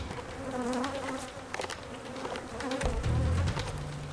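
An agitated beehive buzzes steadily and densely as it is carried to a new location, a close, continuous insect drone that swells louder near the end.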